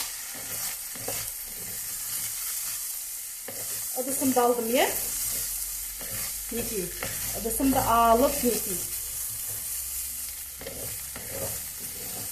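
Rice fries in hot oil in a pan while a wooden spatula stirs it, giving a steady sizzle with scraping strokes throughout. Someone talks over it at moderate volume.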